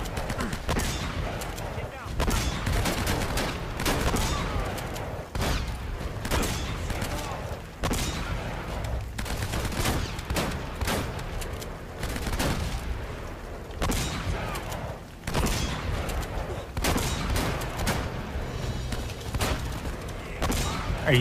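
Repeated gunshots and heavy impacts during a boss fight in the video game Uncharted: Drake's Fortune, irregular blasts and volleys recurring every few seconds over a dense, continuous combat background.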